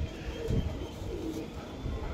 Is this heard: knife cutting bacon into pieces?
no